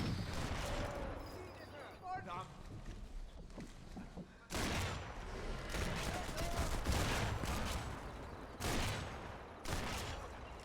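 Sniper rifle shots in the video game Sniper Elite 4, with several loud, sharp blasts spaced apart amid dense battle noise and other gunfire.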